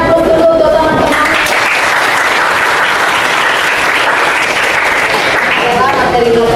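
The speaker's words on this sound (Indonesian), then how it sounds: "Beri aplaus dulu untuk teman-teman." Students in a classroom applauding together, a loud, dense burst of clapping sustained for several seconds that tapers off at the end, with voices audible at the start and end.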